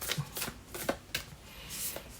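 Oracle cards being shuffled by hand in a series of quick, papery riffling bursts, close and fairly quiet, with short pauses between them and no talking.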